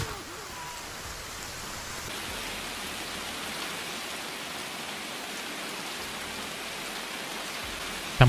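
Steady rain in the video game Escape from Tarkov hisses evenly throughout, a soft continuous patter with no voices, ending in a sudden louder thump.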